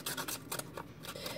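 A distresser tool scrapes along the edge of a paper sheet in quick, rhythmic rasping strokes, close and soft, with no talk.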